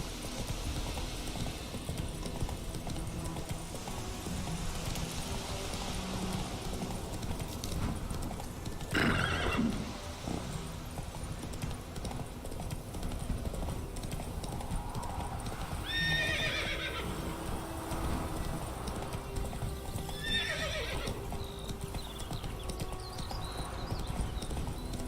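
Geralt's horse Roach in The Witcher 3 gallops with a continuous run of hoofbeats, and two loud whinnying neighs ring out midway, all close and over a steady outdoor ambience.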